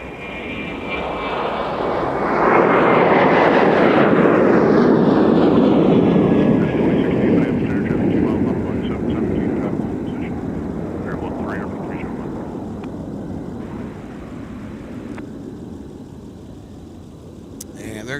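A Boeing 737-900ER airliner takes off from MSP airport in snowy weather, its jet engines swelling to a loud roar that peaks and then fades slowly as it climbs away, with a radio voice talking underneath.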